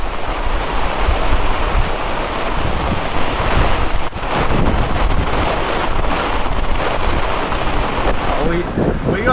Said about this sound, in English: It was pretty rowdy there, that instant gust of wind.